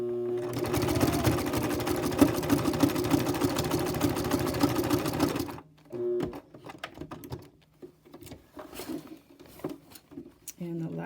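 Sewing machine stitching a patch down the edge of a flag: a rapid, loud mechanical chatter runs for about five seconds, then stops, followed by quieter clicks and handling as the fabric is turned, with a brief restart near the end.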